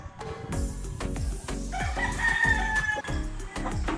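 A straight-bred claret gamecock rooster, about seven months old, crows loudly and close on a game farm, one drawn-out crow over a backdrop of clucks and other fowl noise.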